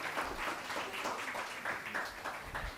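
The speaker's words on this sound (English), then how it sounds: "A big round of applause for all the teams who have qualified." A quiz finale audience applauds the qualified teams with moderate, continuous clapping that stays even throughout, somewhat soft and distant.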